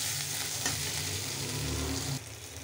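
Chopped tomato with a little salt and turmeric fries in a pan while being stirred, a steady close sizzle with stirring scrapes that quiets suddenly near the end; no voices.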